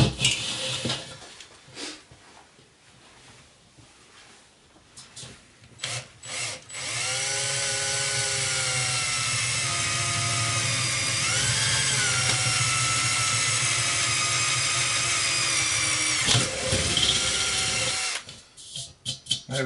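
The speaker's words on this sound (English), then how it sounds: "So now I'm going to drill that first" A power drill bores a hole with an M5 bit through an R2-D2 astromech droid dome, a loud steady whine lasting over ten seconds, preceded by short bursts and scraping and ending with a few brief spurts.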